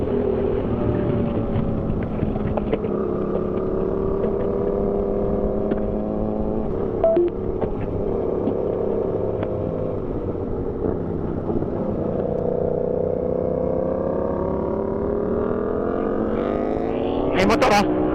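Motorcycle engine droning through traffic on a road ride, with a steady mid-level roar and shifting pitch as it accelerates and eases, continuous and close, with someone talking over it.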